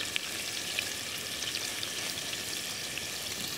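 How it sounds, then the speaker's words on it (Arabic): Chunks of meat browning lightly in a hot pan, a steady dense sizzle and crackle of frying that runs unbroken throughout, close and even in level with no voices. "نحمر اللحمة شوي لحتى يصير لونها حلو وناخذ نكهة منها"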